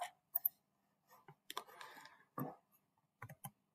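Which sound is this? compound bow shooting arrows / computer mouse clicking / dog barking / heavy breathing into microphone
computer mouse clicking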